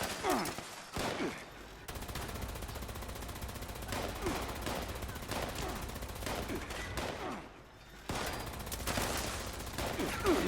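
Rapid gunfire in the video game Fallout 76, dense continuous bursts of automatic fire and blasts that fill the whole stretch, loud and close with only brief gaps.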